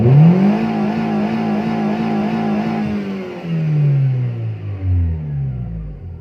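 A Timor DOHC car engine revs up loud and close, holding high RPM before the pitch sinks back down toward idle, with no voices over it.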